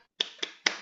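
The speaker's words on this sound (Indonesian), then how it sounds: "Jadi ini untuk tepuk semangat." A teacher's tepuk semangat cheer clap rings out as three sharp, close hand claps in a quick uneven rhythm, each one crisp and separate, with no voices.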